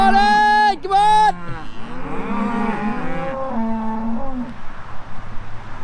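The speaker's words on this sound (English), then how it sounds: "Go on cows, get on." Several cattle mooing close by as the herd moves through a farm gateway, a string of loud overlapping moos, with a man calling out near the end.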